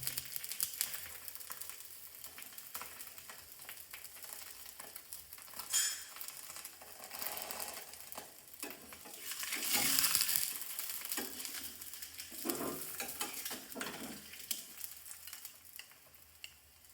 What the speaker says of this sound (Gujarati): ત્યારબાદ આપણો પરોઠો એના પર શેકી આજુબાજુ તેલ એડ કરીશું પહેલાં